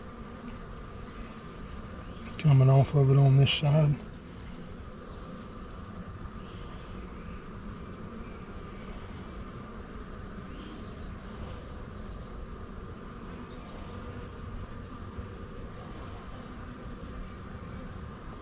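Honey bees buzz around an open beehive during a hive inspection, a steady low drone that fills the whole stretch, with one brief louder burst of buzzing early on and someone speaking faintly once.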